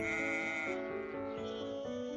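A goat bleats in one long, wavering call, loud and close, its voice trembling across the full length with no other sounds around it.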